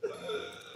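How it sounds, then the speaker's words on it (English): A single short burp with a tonal, croaky quality, close and clear, heard during a gaming stream. "Burp."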